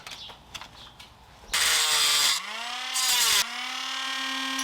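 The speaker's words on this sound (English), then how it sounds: "there's two little tabs on here that I need to grind off" A power tool grinds two small tabs off a car grille during a JDM headlight install, loud harsh bursts with a rising whine as the motor spins up and down, close and alone.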